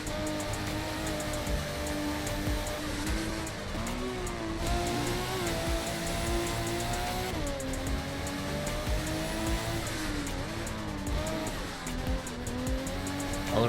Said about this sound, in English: I'm gonna pull out the R33 and try it down